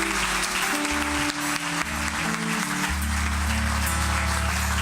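A congregation applauds loudly and continuously, dense clapping filling the room with a sustained low musical hum underneath.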